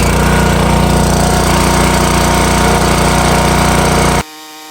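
Small gas engine on a Champion 27 log splitter running loud and close, a harsh, rapid, steady chugging roar that cuts off abruptly near the end, leaving a faint hum.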